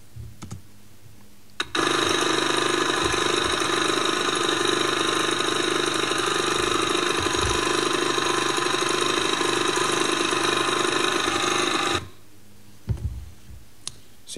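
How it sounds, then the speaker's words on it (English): A small unmodified 79cc four-stroke carbureted engine runs on sugar-derived ethanol, buzzing loudly and steadily for about ten seconds before cutting off abruptly, with faint clicks and handling noises before and after. "It was a 79cc four-stroke carburetor engine, so it's just a small engine, and it was completely unmodified."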